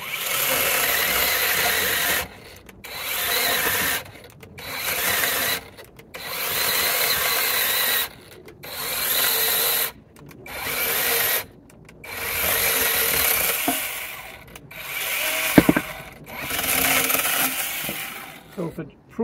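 An OLMOLMO 8-inch cordless mini chainsaw prunes branches in repeated bursts, each cut a loud buzzing run of about two seconds separated by short pauses, with a sharp snap partway through and faint talk in places.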